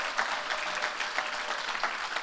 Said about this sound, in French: est-ce qu'on peut déjà applaudir l'équipe d'organisation ?